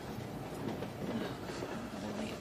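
A passenger train rolls along its rails with a steady rumbling clatter heard from inside the carriage, continuous and even with no voices.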